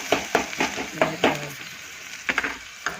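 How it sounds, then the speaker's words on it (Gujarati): Masala spices with garlic and curry leaves roasting in a pan for drumstick dal, a spoon scraping and clinking in quick uneven strokes over a soft sizzle, close and moderately loud. "જો મસ્ત મસાલો શેકાઈ ગયો"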